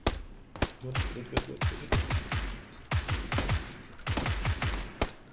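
Rapid bursts of gunfire from a firefight in PlayerUnknown's Battlegrounds, with repeated loud sharp shots in quick clusters and echoing tails throughout, a brief voice speaking briefly among them.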